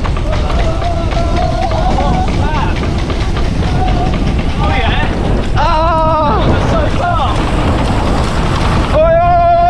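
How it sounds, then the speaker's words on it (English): Strong wind roars and buffets the microphone continuously, loud and close, during an outdoor mountain bike ride, with voices speaking intermittently over it. "it's so windy though"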